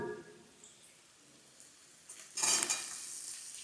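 Potatoes tipped into a hot pan for a cauliflower vegetable curry, a soft rustle at first and then a louder burst of sizzling and stirring that keeps going to the end.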